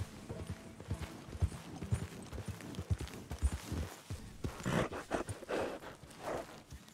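Horse hooves clip-clop at a walking pace in the video game Red Dead Redemption 2, uneven close thuds on hard ground with a breathy snort near the end, with no one talking.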